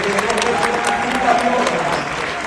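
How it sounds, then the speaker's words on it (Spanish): Audience applause at a health symposium during a convention, a steady dense wash of many hands clapping that holds evenly for a few seconds, with faint voices mixed underneath. "Por favor, denle un aplauso a la persona que tiene"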